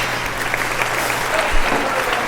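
A crowd applauds the cooks who prepared a farm meal at Epiphany Farms, a steady wash of clapping filling the short moment at an even, fairly loud level.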